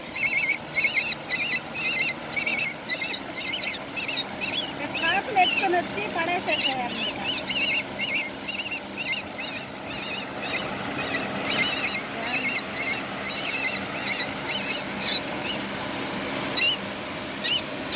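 A myna chick in a village calls with rapid, high, repeated chirps in bursts throughout, close and fairly loud, over a soft background murmur.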